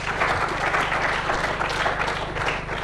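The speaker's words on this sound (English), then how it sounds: "Round of applause, guys." Applause from an audience at a startup award pitch event, a dense, steady wash of many hands clapping throughout, fairly loud and continuous with no clear voices.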